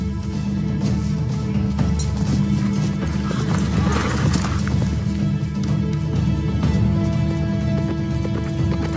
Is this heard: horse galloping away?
yes